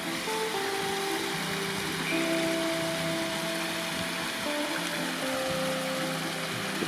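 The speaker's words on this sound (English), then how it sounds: "Sound of a waterfall. Out here in the desert is a rare thing, you don't often get to hear." Waterfall in the desert, a steady, continuous rush of falling water filling the whole clip at moderate level, with faint tonal hums mixed in and no talking.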